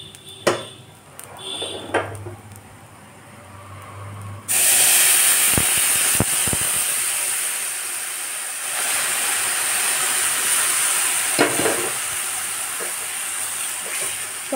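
Warm water poured into frying rice in a hot pan for pulao, first quiet stirring and clinks, then a sudden loud, sustained steamy hiss that gradually eases but persists, with occasional utensil knocks.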